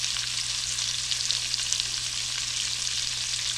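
Sausages seasoned with salt and black pepper sizzle in a skillet as they start to cook, a steady, close, even frying hiss with no talk.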